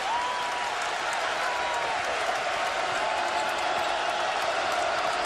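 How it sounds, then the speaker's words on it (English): Arena crowd at a San Jose State vs Kansas college basketball game cheering and applauding loudly and continuously, with whoops and a commentator's voice faintly under the roar. "And now the crowd gets into it."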